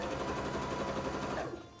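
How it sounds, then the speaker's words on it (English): A sewing machine stitching a Pokemon cosplay runs in a steady, fast mechanical whir close by, then slows and trails off near the end. "let's sew the other side before I get ahead of myself"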